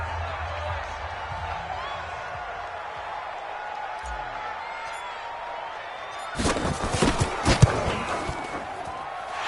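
A home crowd in a video game football match roars after a winning field goal, the cheering bursting in loudly partway through after a quieter stretch of ambient game sound.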